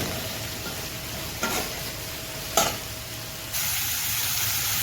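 Ginger sautéing in a pan for spicy onion chutney gives a steady, close hiss of frying, broken by two brief stirring scrapes and a louder sizzle toward the end.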